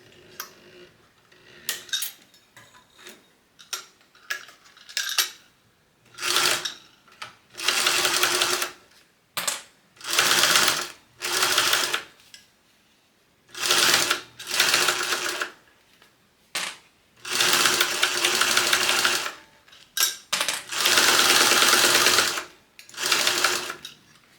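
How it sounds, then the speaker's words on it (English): A sewing machine basts around the edge of a bag panel at an eighth-inch seam allowance, running in repeated loud bursts of rapid stitching separated by short pauses, with no talk over the runs. "now we're going to baste around this at 1/8 of an inch seam allowance"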